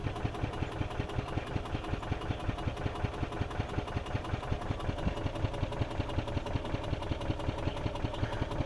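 A Yamaha golf cart's small engine, due for a carburetor drain and cleaning, runs close by with a rapid, even chugging pulse that stays steady and moderately loud throughout.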